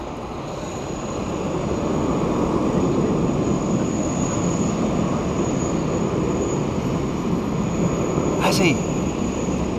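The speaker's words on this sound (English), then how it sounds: "Wendy Cutler's favourite Qantas livery. That's 737, I think." A Qantas Boeing 737 airliner rumbles steadily at Sydney Airport, a broad sustained engine roar swelling early and holding loud throughout, with a brief voice and people chatting underneath.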